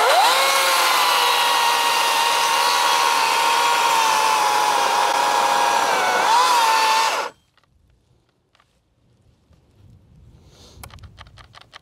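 An Atlas battery chainsaw cutting down a tree gives a loud, steady high-pitched whine for about seven seconds. It then cuts off abruptly, leaving near silence with faint rustling and light clicks.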